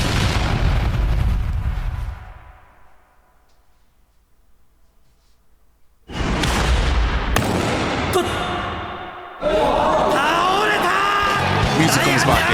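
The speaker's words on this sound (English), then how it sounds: "That sound effect I added later on, the cannon effect" An added cannon sound effect booms in a video montage, a heavy blast breaking out of a quiet stretch amid loud music and crowd-like noise, with further punches and hits following.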